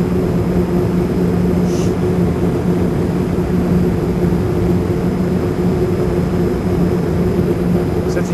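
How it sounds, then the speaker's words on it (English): Wind-tunnel airflow rushes over a Yakima round roof rack bar, a constant loud broadband roar with a steady low hum and whistle-like tones, unchanging throughout. "If we compare that to the Yakima round bar, you instantly hear the difference between a square and a round bar."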